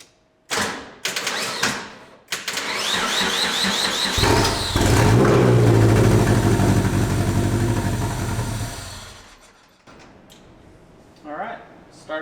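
Car engine started for its first test after a slimmed-down wiring harness rework, cranking briefly then catching and running at a steady idle for several seconds before shutting off, close and fairly loud.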